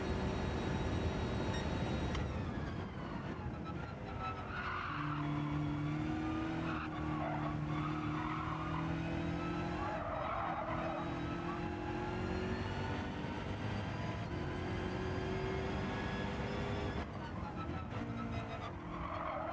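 Race cars in Gran Turismo 7 lobby racing hum and whine steadily, engine notes shifting through gear changes with tire noise, continuous and moderately loud while someone talks over it.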